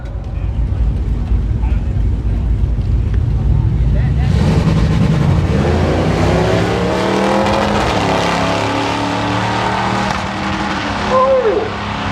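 A Plymouth Barracuda E-body drag car roars at a drag strip, rumbling low at first, then launching into a loud, ragged full-throttle blast that stays close and dominant, with an announcer talking over it.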